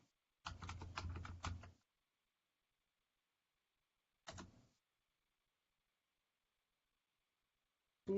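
Short bursts of typing on a computer keyboard while entering a Linux command, two separate clusters of close keystrokes separated by silence.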